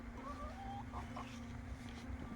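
Two chickens cluck softly inside a coop built from scrap pallet wood, faint, short murmuring calls over a low steady hum.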